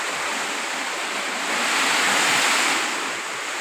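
A loud, steady rushing roar of heavy rain and pouring water, continuous throughout and swelling slightly in the middle, with no voices.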